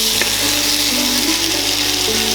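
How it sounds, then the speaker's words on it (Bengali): Mixed vegetables frying with ground spices, including cumin powder, hiss in a loud, continuous sizzle while being stirred, close up with no voices. "সব মশলা খুব ভালো করে তরকারির সাথে মেশাবো আর ক্রমাগত নাড়াবো"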